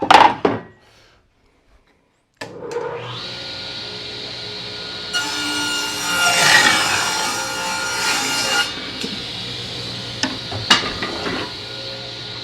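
Saw cutting through hickory boards for kitchen cabinet doors, a steady grinding run of several seconds after a short quiet start, with a few knocks and clunks near the end.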